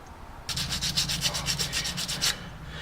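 Brake line banjo bolt mating surfaces being cleaned, a steady rapid back-and-forth scrubbing rasp up close, about a dozen strokes over two seconds, loud and alone.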